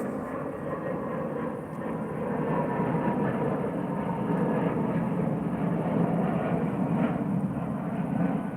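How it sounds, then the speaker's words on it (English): British Airways airliner passing overhead, a broad low engine roar that swells gradually and stays steady, heard from a distance outdoors with no talking. "British Airways flight. I wonder where they're going."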